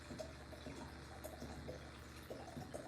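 Wine being poured into a glass, a soft liquid trickle with small splashes running steadily for about three seconds, close and fairly quiet, with no talking.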